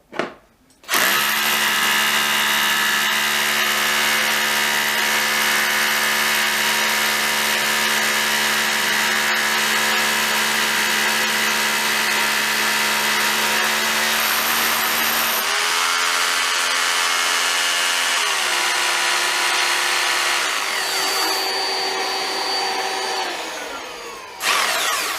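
A Milwaukee M12 universal dust extractor with HEPA filter runs steadily beside a drill boring a 16mm hole, a loud continuous whine and suction hum that shifts pitch partway through, then winds down near the end.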